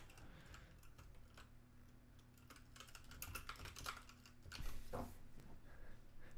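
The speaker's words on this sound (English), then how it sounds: "This is my beautiful Royal Kludge keyboard." Quick, steady keystrokes on a Royal Kludge computer keyboard, a budget mechanical board, clatter close and continuous with a few louder key hits near the end, no voice over them.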